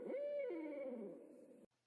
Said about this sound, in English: one of the owls that's intrigued us is the barred owl.